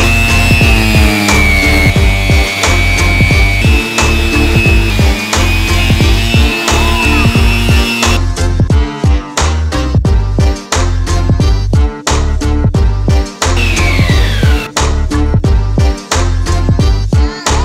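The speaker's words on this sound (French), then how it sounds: "on va y aller directement à la ponceuse." An electric sander works over the frame of a Peugeot 103 moped with a loud, continuous abrasive whir, broken by brief rhythmic dips as the tool shifts across the metal. No one speaks.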